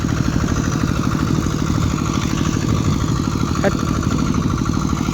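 Two farm tractors (rothai) work a field at dusk, their diesel engine a loud, steady, close chugging roar with fast rhythmic clatter that runs unbroken throughout.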